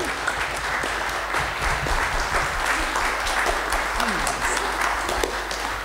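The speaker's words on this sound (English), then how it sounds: "Massive round of applause for Rolf." Sustained audience applause at a nature festival award ceremony for a Church of England primary school, a steady dense clapping that fills the whole stretch with some crowd noise mixed in.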